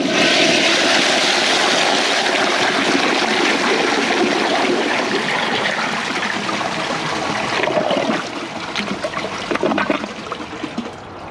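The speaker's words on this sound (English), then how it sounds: "to see how it flushes with a clogged siphon jet" A 1999 Western Pottery Clinton high bucket-tank toilet with a clogged siphon jet flushes in a loud, steady rush of water that swirls for several seconds, then eases into trickling and gurgling.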